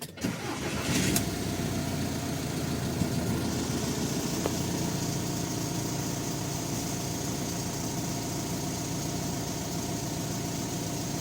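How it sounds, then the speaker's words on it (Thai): A VW Caravelle T5.1 diesel van engine cranks and catches, then settles into a steady, rumbling idle that runs on evenly, close by, with no talking. "เราจะมาสตาร์ทเครื่องกัน"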